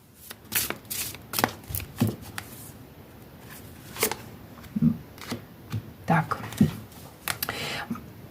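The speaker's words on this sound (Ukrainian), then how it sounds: "поки я буду тасувати колоду карт" A deck of tarot cards being shuffled by hand, giving soft, repeated riffling and slapping bursts close to the listener, with brief quiet gaps between the handfuls.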